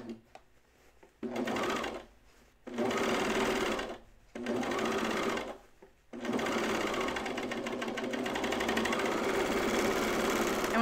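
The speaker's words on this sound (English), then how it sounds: "I try and serge over where I started, but try not to nick those threads with my blade." A serger trims and stitches around a dress armhole, a loud buzzing motor that runs in three short bursts separated by pauses, then settles into one long continuous run.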